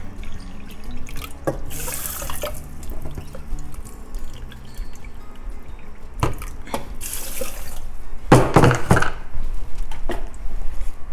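Water poured into cooking pots, one cup into each, during a rocket stove cook-off: several short splashing pours and drips with metallic pot knocks, the loudest burst near the end, no talk.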